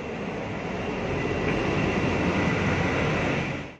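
KRL electric commuter train on the Solo–Yogyakarta line in Indonesia, a loud, steady broadband rumble of the train running close by, continuous for several seconds with no voices.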